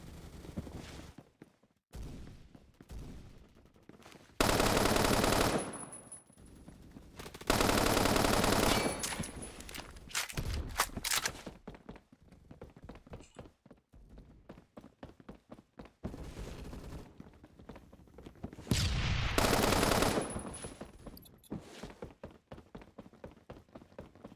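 Machine gun fire in the shooter game Phantom Forces, coming as several loud sustained automatic bursts separated by quieter stretches of footsteps and movement, close-up and without speech.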